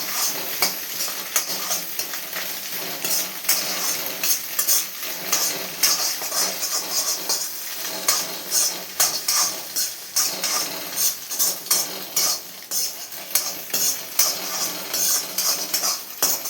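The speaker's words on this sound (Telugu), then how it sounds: "ఫ్రై అవుతున్నాయి కదా దీంట్లో కొంచెం అల్లం పేస్ట్ వేసుకుందాం ఒక స్పూన్ వేసినానండి అల్లం అది కూడా మంచిగా మిక్స్ చేస్తాను" Ginger paste sizzles in hot oil in a pan on high flame while a spoon stirs it for egg noodles, sharp scraping clinks repeating over a constant frying hiss.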